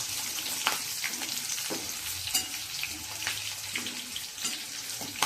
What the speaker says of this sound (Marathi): आता आपण परतून घेणार आहोत